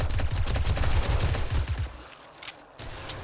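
Rapid automatic gunfire from a high-capacity gun in the video game 7 Days to Die, a dense unbroken burst of shots that carries on for most of the moment and then breaks off into a few scattered shots.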